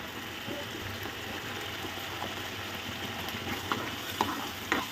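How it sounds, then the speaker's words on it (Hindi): Tomato puree masala with roasted crushed cumin being stirred and fried in a pan for dhaba-style rajma, a steady soft sizzle with light scraping and a few clearer clinks near the end. "अब इसको अच्छे से हम भूनते हैं"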